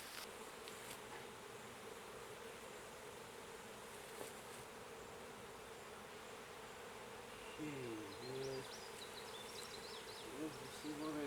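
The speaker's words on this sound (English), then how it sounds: "These bees have been in there a while." A dense, continuous buzz of a bee swarm long settled inside a structure hums throughout at low level, with faint voices and a few higher sounds joining near the end.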